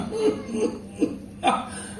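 An actor in a Bengali audio drama lets out a few short coughs, about four brief bursts spaced across two seconds, close and fairly soft.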